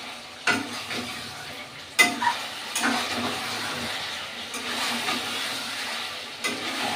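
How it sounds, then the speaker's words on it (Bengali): Spiced mutton stir-fried in a pan gives a continuous loud sizzle close up, with a few sharp spatula knocks and scrapes against the metal between stretches of steady frying. "আবারও মিনিট 2 মতন মাংসটাকে ভালো করে কষিয়ে নিয়েছি"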